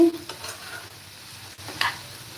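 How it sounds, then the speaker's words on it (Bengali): Vegetables with egg and green cauliflower cook in a pan for a diet-friendly vegetable dish, giving a steady low sizzle with soft stirring scrapes and a brief louder clatter near the end. "ডিম দিয়ে সবুজ ফুলকপি দিয়ে আমি সবজি দিয়ে সবজি রান্না করতেছি"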